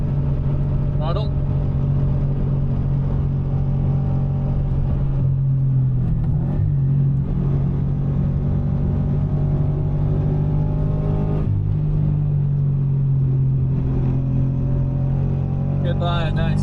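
A Subaru BRZ track car accelerates on a Formula 1 circuit. Its engine drones steadily and loudly from inside the cabin for the whole stretch, and an instructor's voice is heard over it now and then.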